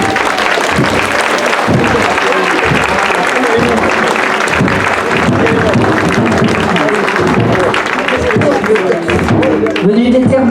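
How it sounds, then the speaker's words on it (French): Loud, sustained applause and crowd noise from an outdoor audience greeting a costumed Templar troupe during a torchlight parade in Biot, steady clapping filling the whole stretch without a break. "Merci d'applaudir la Fenice Templari."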